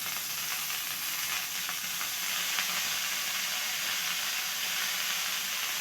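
Curry leaves sizzle loudly in hot oil left from frying fish, a steady, crackling hiss close by with no voices.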